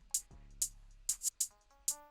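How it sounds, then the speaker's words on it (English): A reversed hi-hat sample produced in FL Studio for an Afro remix: short swelling hissy bursts that rise and cut off, repeating irregularly several times alongside faint tonal hits. "And also this reversed hat to make it sound cooler."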